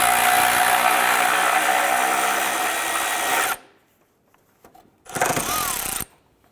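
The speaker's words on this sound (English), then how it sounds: "I'm going to remove this 10mm bolt" A power tool, likely an impact driver or drill, runs loud and steady for several seconds while removing a 10mm bolt from the strut tower of a 2001–2005 Honda Civic. It then stops, and a second short burst follows after a brief pause.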